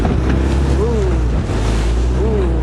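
Wake from a passing ambulance boat slaps and churns on a Venice canal, a close, continuous wash of water over a low motorboat engine rumble.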